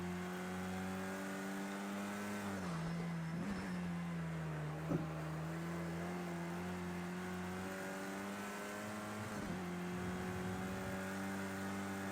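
Race car engine in the Project CARS 2 racing game holds a loud steady drone with shifting pitch as it slides through a drift, revs dipping and rising around a brief bump midway, with no talking.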